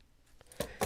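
Scissors snip through the tail of a slip knot tied on a hanging ornament: two short, crisp cuts close by in a quiet room, the second slightly louder, with no talking.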